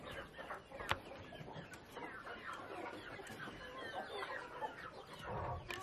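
Broody hens on a homestead cluck softly near their nesting boxes, a quiet murmur of low clucks with one sharper call standing out.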